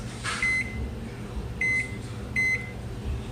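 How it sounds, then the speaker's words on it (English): A microwave hums steadily with low machine drone while three short, clear beeps sound at intervals over it. "Microwave it that way for 6 minutos."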